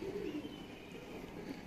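High-performance pigeons with black markings cooing nearby in a low, steady throaty murmur, faint and brief, with no talk.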